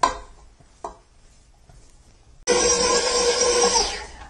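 A stand mixer whirs loudly as it works all-purpose flour into cookie dough for pecan tassies, starting abruptly after a quiet stretch with a couple of small knocks and running steadily close by.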